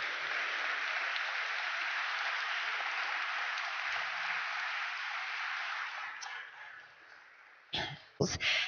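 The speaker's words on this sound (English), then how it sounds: "a big round of applause for our panel." Audience applause for a panel at a science centre launch event, a sustained, loud wash of clapping that holds steady and then fades away, with a few louder knocks and a voice at the end.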